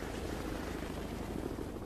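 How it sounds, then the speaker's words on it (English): A Chinook helicopter flies away from a Vietnam War rescue mission, its dense thudding rotor roar and engine noise filling the air continuously and loudly. "The Chinooks quickly pull up and race to safety."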